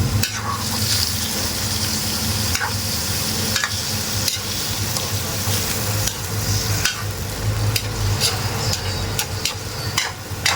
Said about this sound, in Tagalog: dahan-dahan lang po ang ating maghalo guys dahil ang isda ay malambot